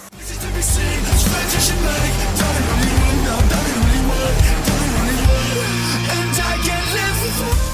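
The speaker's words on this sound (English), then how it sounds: "I'll just get a flat wheel, just clean them up and take them back to metal" A flap wheel on a grinder cleans welds off steel lower control arms, a steady, dense abrasive grinding drone that wavers slightly in pitch as it works continuously and fairly loudly.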